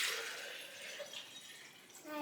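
Water poured steadily into a container for a children's beach-themed art project, a close, continuous trickling splash lasting a couple of seconds.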